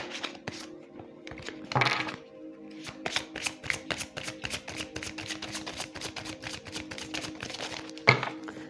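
A deck of tarot cards is shuffled close by in rapid riffling bursts, a steady papery flutter with a couple of sharper slaps, continuing for several seconds without speech.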